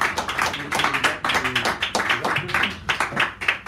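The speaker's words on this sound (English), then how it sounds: "Give him a round of applause, please." Cafe audience at a San Francisco poetry hour clapping for a poet, a lively burst of close, irregular hand claps that keeps going steadily for a few seconds with no talking.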